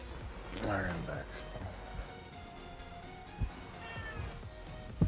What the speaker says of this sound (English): Be quiet, Kitty.